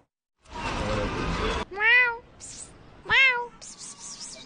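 After a burst of broadband noise, a cat lets out two clear, rising-then-falling meows, close and loud, with brief higher chirps in between.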